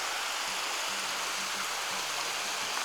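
A small waterfall fed by a mountain stream in the Ukrainian Carpathians near Lake Nesamovyte gives a steady, soft rushing hiss, heard at some distance with an even, continuous wash and no voices.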